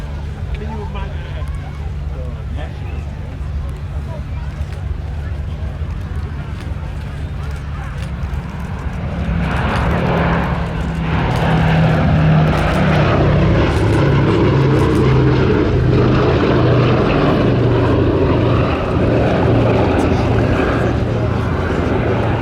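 A Boeing B-17 Flying Fortress propeller bomber, Sally B, flies at the Cosford Air Show, its heavy engine drone swelling loud about halfway through and holding steady, with a voice talking over it.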